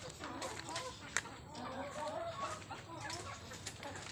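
A small but sturdy chicken clucking softly at a distance over low background noise, with a few sharp sounds.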